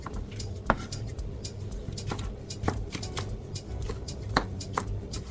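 Kitchen knife chopping vegetables into large chunks on a cutting board for oxtail stew, a close series of sharp, fairly regular knocks with short gaps between cuts.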